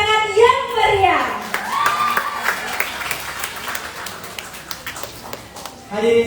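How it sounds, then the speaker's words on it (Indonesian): Audience at a regional language ambassador pageant final applauding, with clapping and some cheers building under an amplified voice at the start, then fading into scattered claps before a voice returns at the end. "Mari kita berikan tepuk tangan yang meriah."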